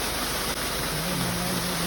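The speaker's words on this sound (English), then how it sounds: "we discovered a free Indian car wash along the road where a waterfall pours onto part of the road" A waterfall pours onto a road in northern India, a steady, dense rush of falling water that fills the whole short stretch, with a faint engine hum underneath.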